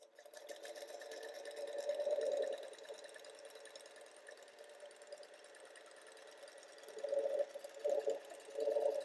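A Singer Featherweight sewing machine hums steadily with a low motor drone while stitching quilt blocks, the stitching growing louder in a burst early on and in several short runs near the end.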